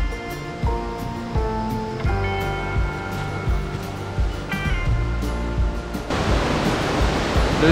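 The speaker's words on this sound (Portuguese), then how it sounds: "estamos quase chegando na cachoeira" A waterfall beside a forest trail in Jaraguá do Sul, Santa Catarina, comes in at the end as a loud, steady broadband rush of falling water. It follows several seconds of tonal, music-like background sound.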